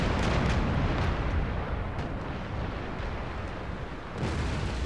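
Cannon and artillery fire in a Total War naval battle against the British navy, a constant heavy barrage of overlapping booms and crackling blasts, loud and unbroken, with no speech.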